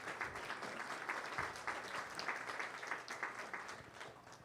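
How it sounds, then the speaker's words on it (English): Audience at a parish meeting applauding steadily, a dense wash of many hands clapping together at moderate distance, sustained evenly throughout with no voices over it. "Please give him some applause."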